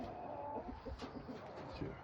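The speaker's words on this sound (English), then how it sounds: "Chicken, chicken, chicken. Chicken, chicken, chicken." Backyard chickens and roosters, including Easter Egger hens, clucking and cooing in a short burst of soft, close, repeated clucks over faint ambient noise.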